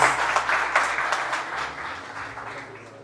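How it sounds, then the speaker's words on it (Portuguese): A church congregation applauds steadily, a dense wash of many hands clapping indoors that slowly fades. "Vamos salve de palmas para o Senhor."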